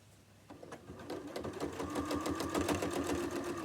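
A sewing machine stitches around the edge of a tote bag, starting after a brief quiet moment and then running in a rapid, steady mechanical clatter that grows slightly louder, close by, with no talk.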